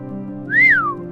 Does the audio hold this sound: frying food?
no